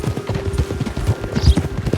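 Horse hooves clip-clop in a steady, brisk rhythm in Red Dead Redemption 2, close and clear, with faint talk in the background.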